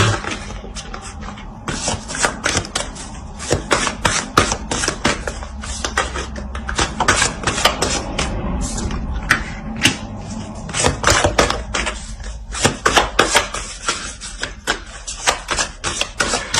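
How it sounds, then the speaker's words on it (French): Tarot cards being laid out and placed on a table: a busy stream of sharp taps, flicks and shuffling clatter in irregular bursts, close and fairly loud, with no talk. "Je vais rajouter une carte, des cartes sur la dernière ligne."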